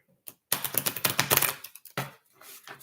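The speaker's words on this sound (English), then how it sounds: "These are new cards, and they're hard to shuffle" A brand-new deck of tarot cards being shuffled, a quick run of crisp clicking riffles lasting about a second, then a short second burst, close and fairly quiet.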